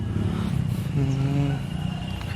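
Engine of a 2007 Suzuki Carry pickup idling nearby, a steady low rumble with a brief rise in tone midway, continuous throughout.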